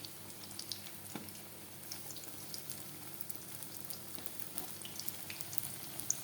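Beguni, sliced eggplant fritters in batter, frying in hot oil, a soft continuous sizzle with faint scattered crackles and pops throughout.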